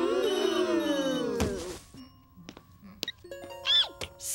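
A cellular phone rings in a classroom scene of an animated series, a loud bright melodic ringtone with stacked tones at the start, followed by quieter clicks and short electronic chimes.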